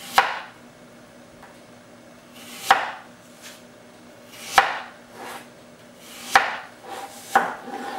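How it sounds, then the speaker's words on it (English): A knife cuts thin slices from apple halves on a cutting board, five or six sharp crisp chops spaced about two seconds apart, each with a short crunchy tail. "Then you take the half like this and you thinly cut, slice it."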